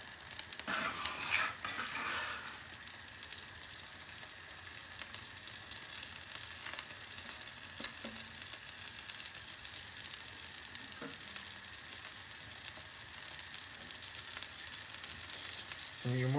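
Omelette of thin beaten eggs layered with plenty of kaşar cheese frying in a pan, giving a steady close sizzle throughout with a few faint clinks of a utensil and no talking.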